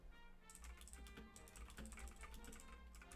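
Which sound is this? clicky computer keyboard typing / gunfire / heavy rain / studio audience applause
clicky computer keyboard typing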